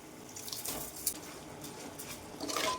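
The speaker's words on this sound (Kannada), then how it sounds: "ಇವಾಗ ಕಾದಿರೋ ಅಂಥ ನೀರು, ಅಕ್ಕಿ ಎಷ್ಟು ಹಾಕಿರ್ತೀವಿ ನೋಡಿ ಅದರ 2ರಷ್ಟು ನೀರು ಹಾಕಬೇಕು" Hot water poured over soaked rice in a pot while making mushroom biryani, a steady close pouring and splashing hiss with a small knock midway and a louder swell near the end.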